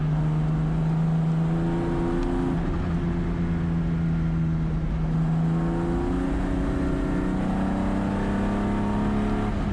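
BMW M3 race car in a USTCC 2024 touring car qualifying session, its engine held under steady throttle as a loud, continuous, close droning note that rises and dips slightly in pitch with gear and speed changes, and no talking.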